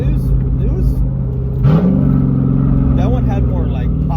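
A built and cammed 2001 Mustang engine revving through stainless steel mufflers, a deep throaty rumble that rises in a quick rev, heard close and loud under someone talking.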